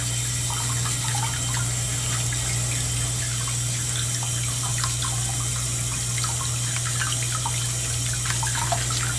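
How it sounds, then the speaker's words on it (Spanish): Tap water runs steadily into a sink while dentures are rinsed and brushed, a continuous close splashing flow with no talking. "el agua está ahí en el zinc"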